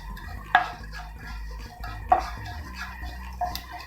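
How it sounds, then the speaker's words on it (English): Cumin and fennel seeds are stirred in hot oil in a pan, a spoon clinking sharply against the metal three times amid soft scraping and a low sizzle. "I'll put in around half teaspoon of cumin seeds here, and I'll put in around 1/4 teaspoon of fennel seeds. Just mix them up."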